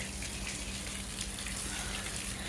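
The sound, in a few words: water from washing the floor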